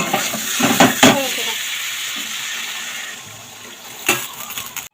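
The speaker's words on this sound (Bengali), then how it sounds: "এবার একটা কষিয়ে নিই।" Egg curry masala sautéed in a pan, with scraping stirring strokes and a soft sizzle near the start, settling to a quieter hiss before another stir near the end.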